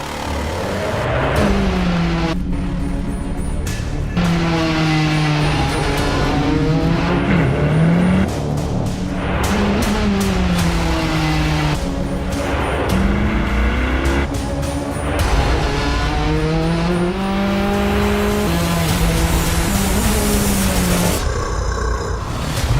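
A 2020 Chevrolet C8 Corvette driving hard, its engine revving up and down repeatedly through rising and falling pitch sweeps, with occasional tire squeal, loud and close throughout.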